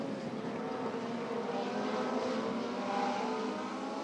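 Legends race cars racing at Beaver Dam Raceway, a steady blended engine drone heard from a distance as the pack moves through the turns, with no clear voices.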